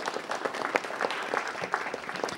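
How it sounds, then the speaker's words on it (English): Applause from the audience at a city council meeting, a steady wash of many hands clapping throughout, fairly even and moderately loud with no talk over it. "Give them a round of applause as well."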